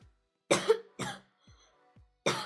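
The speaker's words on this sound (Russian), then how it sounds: "Опять кашель" Three sharp, close coughing bursts with short gaps, the last one after a longer pause, heard with no talk over them.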